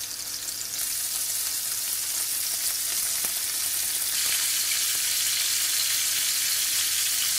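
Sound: cauliflower frying in oil

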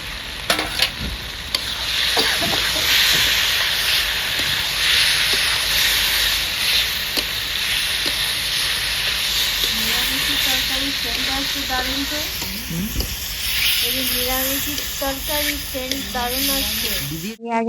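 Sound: peas poured into a hot pan, sizzling

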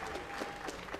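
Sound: applause for the boxers at a boxing match

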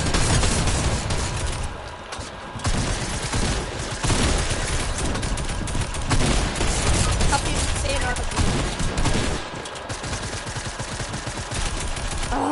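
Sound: gunfire in a video game

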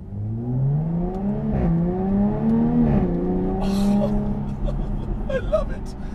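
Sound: Jaguar F-Type V6S coupe engine revving through center exhausts

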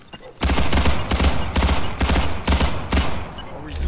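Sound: pistol gunfire in the video game Ghost in the Shell

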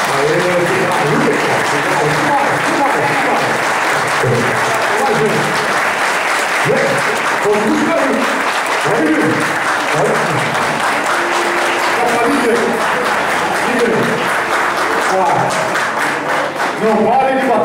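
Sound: applause at an end-of-year party

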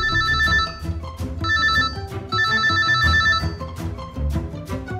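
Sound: telephone ringing in a cartoon

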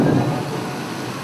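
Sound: heavy rain pounding on a roof

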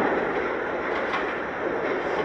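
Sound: New York subway R142 train leaving the station

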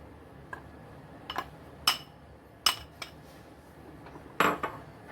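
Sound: stirring powder into sweet mixture in pan, heat off

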